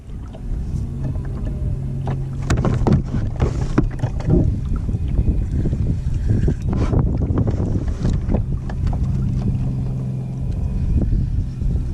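Kayak gliding across Lake Norman near Mooresville, North Carolina while trolling for bass: steady water sloshing and paddle splashes against the hull, mixed with gusty wind buffeting the microphone, continuous and close.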